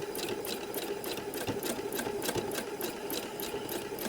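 A sewing machine doing bobbin work outline stitching hums steadily with quick, evenly spaced needle strikes, fairly quiet and close, with no speech.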